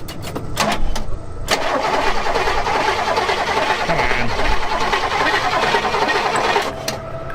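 A previously seized Oldsmobile 98 engine cranks after the gas pedal is pumped, then catches and runs with a loud steady mechanical drone, close by, with a voice briefly over it.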